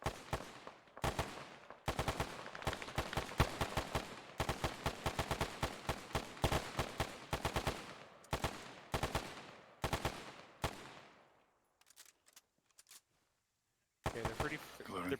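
Gunfire in a military video game, rapid automatic bursts and single shots in fast rhythmic strings, loud and close, easing to scattered shots and silence before resuming, with occasional talk.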